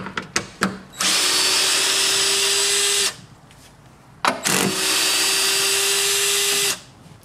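A power drill backs out the 10 mm bolts on top of a headlight on a 2009-2014 Ford F150, with a few quick trigger taps and then two loud, sustained whirring runs of about two and a half seconds each.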